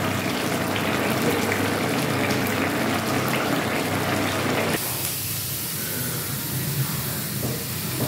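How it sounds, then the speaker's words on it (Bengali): Reheated hot water pours into a simmering fish curry with a loud, broad hissing rush that drops off sharply partway through to a quieter bubbling hiss, with no one speaking. "আবার জল গরম করে আবার দিয়ে দিচ্ছি মাছে"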